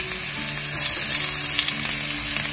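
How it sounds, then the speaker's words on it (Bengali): Finely minced ginger and garlic fry in soybean oil in a pan over high heat, a loud steady sizzle close up with no talk. "এখন এটার মধ্যে আমি অ্যাড করব খুব ভালো করে মিহি করে কুচি করা আদা রসুন কুচি।"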